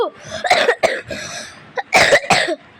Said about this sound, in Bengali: তোমরা তো জানোই আমার একটু কাশি উঠেছে